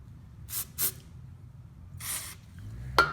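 Short hissy bursts of aerosol cleaner sprayed into the jet of a Poulan lawnmower carburetor, three separate puffs spaced apart in a quiet room with a small knock at the end.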